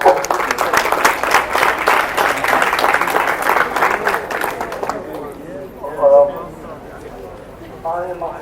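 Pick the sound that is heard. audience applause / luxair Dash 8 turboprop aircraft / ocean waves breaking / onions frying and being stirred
audience applause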